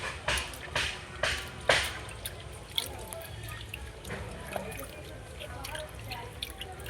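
Water drips and trickles while bicycle disc brake parts are rinsed clean, with several distinct splashy drops early on and a quieter wet patter afterward, fairly close and soft.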